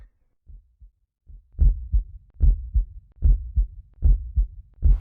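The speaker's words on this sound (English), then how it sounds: "I can hear the heart beating again." Heart beating in the N64 game Shadow Man, a deep, muffled double-thump pulse repeating steadily, faint at first and then louder, with no other sound.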